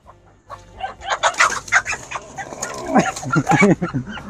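Chickens cluck and squawk close by in a busy, overlapping chatter, with a rooster-like call standing out among the hens.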